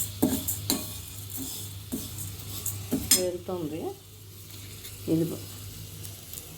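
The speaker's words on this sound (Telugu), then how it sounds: "జీలకర్ర కూడా ఎక్కువసేపే వేగుతుంది." Cumin seeds frying in a pan, crackling with a soft steady sizzle, broken by sharp clinks and scrapes of a spoon stirring against the metal, while someone speaks briefly.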